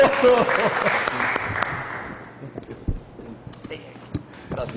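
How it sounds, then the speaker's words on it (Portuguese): An audience claps loudly for a couple of seconds, the applause thinning and fading out as voices carry on talking. "Vamos aplaudir o Carlos Correia!"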